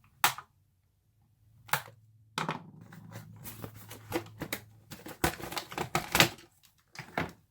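Cutters snipping zip ties off the underside of a VATOS Spirit 1:16 scale RC car: a series of sharp clicks and snaps in irregular bursts, close and loud, with handling noise between cuts and no talking.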